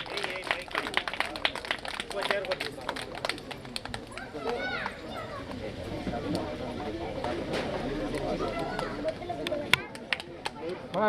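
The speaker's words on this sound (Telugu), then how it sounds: "క్లాప్స్ కొట్టాలి నాన్న" Audience clapping at a retirement function: steady, dense applause from a crowd of hands continuing throughout, with voices talking over it in a busy hall.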